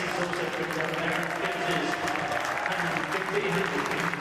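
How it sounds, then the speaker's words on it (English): Teammates and spectators at the Gabba applaud a batsman's 150 in a cricket match, a steady wash of clapping from a large crowd that holds evenly throughout, with a commentator's voice running over it. "deserved applause from his teammates and the spectators here"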